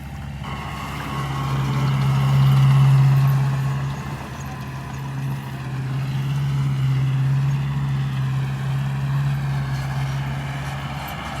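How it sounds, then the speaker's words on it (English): Tractor engine droning steadily as it drives along a sandy beach, a low continuous rumble that swells as it passes nearby and then holds at a moderate level. "Here comes the tractor again."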